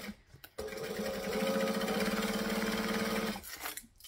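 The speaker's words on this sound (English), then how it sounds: "So we're going to stitch and we're going to backstitch." A sewing machine stitching fabric and foam for a bag, running steadily for about three seconds with an even mechanical whir, with brief handling noises before and after.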